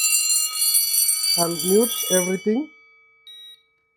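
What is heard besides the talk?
Hikvision conventional fire alarm panel bell sounding on evacuate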